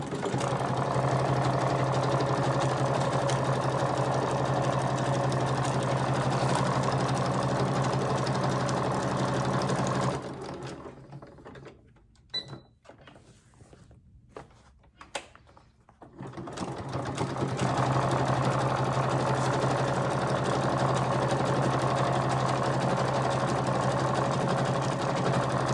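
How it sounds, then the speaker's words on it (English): Sewing machine stitching a patchwork cover for a junk journal, a fast steady rattling hum close up, pausing for several seconds midway before the stitching resumes at the same pace. "We're going to start right at this corner and sew."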